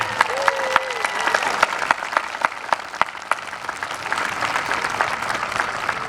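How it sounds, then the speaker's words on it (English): A high school graduation crowd gives a round of applause, a steady wash of many hands with a few sharp, louder claps standing out nearby, continuing throughout. "How about a round of applause for everybody?"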